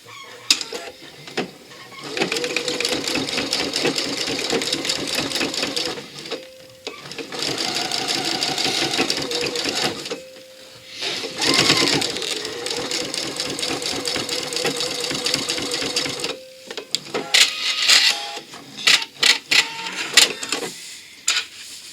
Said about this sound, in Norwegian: Så bare holder jeg på det, mens jeg legger det under symaskinen,